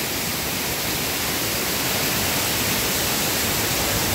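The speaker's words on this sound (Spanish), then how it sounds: "cómo brota esta agua de esta cortina de piedra" Water gushing from a rock face at a spring-fed waterfall, the source of a river near Actopan, Veracruz, Mexico: a steady, loud, broadband rush that fills the whole stretch without pause and with no voices.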